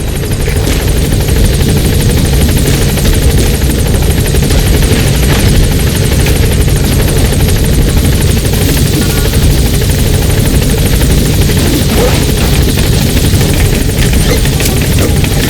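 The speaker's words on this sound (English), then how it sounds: "the chopper's touching down" A helicopter touches down in Metal Gear Solid V, its loud, close rotor thrum and turbine whine droning steadily with no pause and no talk.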